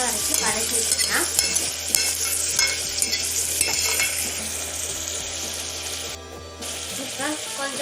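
Small onions sauté in oil for mutton biryani with a constant close sizzle and rhythmic scraping stirs. A brief hiss breaks in near the end.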